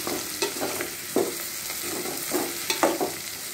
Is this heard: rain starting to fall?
no